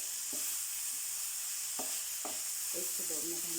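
Chicken filling with soy sauce, vinegar and chili sauce sizzles steadily in a hot pan, with a few sharp scrapes and taps of a spoon stirring it, fairly quiet and without talk.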